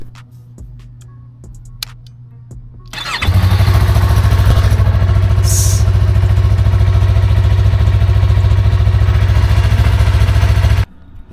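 A motorcycle cold-started after a few seconds of quiet clicks, then a loud, close, steady idle with a rapid rhythmic engine pulse that holds for about eight seconds before cutting off abruptly.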